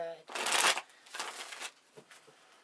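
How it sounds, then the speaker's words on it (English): Tarot cards from a Witch's Tarot deck shuffled in quick riffling bursts, a long dense flurry followed by shorter softer passes and a few light taps, close and fairly quiet, with no talking. "We've got the Witch's Tarot deck. We're on to our Cancer signs here. Shuffling up, asking for guidance for the highest good."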